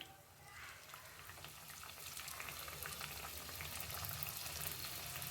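Aloo samosas sizzle steadily in hot oil in a small kadai, a dense, close, continuous bubbling hiss that grows slightly louder and busier, with no voices over it.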